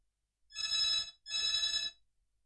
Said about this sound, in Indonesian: itu ada telepon.